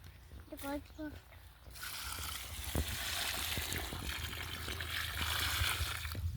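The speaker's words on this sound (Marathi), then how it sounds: "पाणी टाकून देऊ आपण" A person speaks briefly, then water trickles and sloshes steadily onto soil around a newly planted sapling close by, a soft continuous pour with faint clicks and taps.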